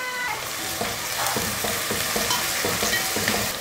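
Sliced onions and curry leaves frying in sesame oil, a steady close sizzle with repeated soft scraping stirs of a spatula running through it.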